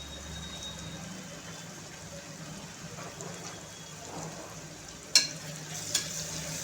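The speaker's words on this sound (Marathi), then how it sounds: "मसाले पण छान टोमॅटो सोबत फ्राय होतील" Spices and tomatoes fry in a pan for a curry of sprouted moth beans, a soft steady sizzle close by, with two sharp clinks of a utensil near the end.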